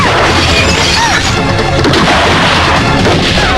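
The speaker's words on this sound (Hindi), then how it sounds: "यहाँ चारों तरफ गोलियां चल रही हैं" Gunfire erupts in a Hindi action film scene, a dense, loud barrage of booming shots and crashing impacts running continuously without pause.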